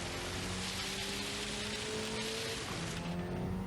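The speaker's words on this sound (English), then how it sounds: "We want the rain to go away." Steady rain in Gran Turismo 7 during a race at High Speed Ring, a constant broadband hiss with a faint engine drone underneath. Quiet and unbroken across the short stretch, with no talking.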